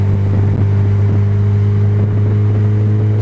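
Car engine droning steadily from inside the cabin while driving and accelerating onto a highway, with an exhaust downpipe flange leak; a constant loud low hum with no talking.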